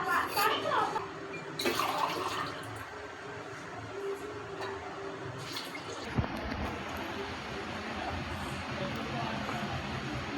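Water poured into a cooking pot of rice for prawn biryani, a steady broadband splash and rush that fills the whole stretch, louder at the start and evening out into a continuous wash.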